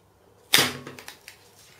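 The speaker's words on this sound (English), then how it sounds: "and we'll just rivet them up." A rivet gun sets a rivet on a DIY magnetic plasma cutter build, giving one loud, sharp, close pop followed by a few fainter clicks and knocks from handling.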